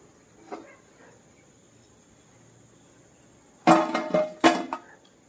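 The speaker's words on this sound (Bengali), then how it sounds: "আওয়াজ শুনে বুঝতে পারছেন কতটা মুচমুচে হয়েছে" Two crisp, loud crunching bites into a fried semolina and egg biscuit come near the end, each a short crackly burst after a quiet stretch.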